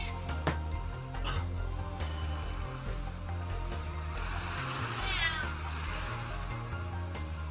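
A cat meows several times, the cries close and clear, with a drawn-out, wavering yowl partway through over a low background hum.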